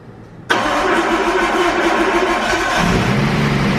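A Nissan Skyline engine cranks and fires abruptly, then settles into a loud, steady idle close by, with the rumble dropping slightly near the end.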